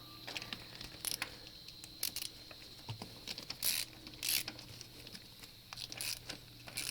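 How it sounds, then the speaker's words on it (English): Wrench torquing down automotive spark plugs, with faint close clicks and ratcheting taps in an uneven rhythm and a few louder metallic clicks. "Just torque them down till you feel them get tight like that, which means the gasket is compressed."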